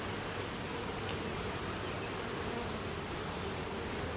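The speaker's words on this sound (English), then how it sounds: "These are your bees." A dense, steady hum of many honey bees buzzing close up at a hive, continuous and even, with no other sounds.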